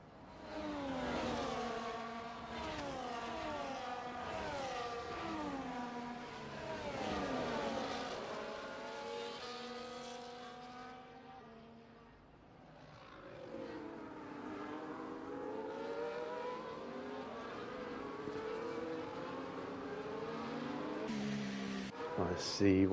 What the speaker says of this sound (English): We're going to be getting underway from Temps Shadow, who's going to be the first driver who's going to be taking us away.